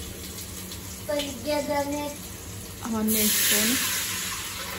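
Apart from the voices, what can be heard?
water being poured into a pot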